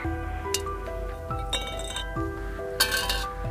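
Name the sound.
aerogel block dropped, metallic clink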